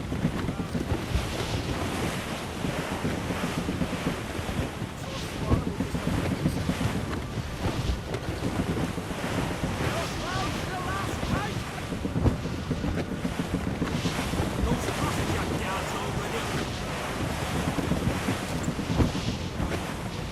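Sailing ship in a squall in Assassin's Creed Rogue: loud, continuous roar of wind and crashing surf against the hull, with gusts rising and falling throughout and no talk.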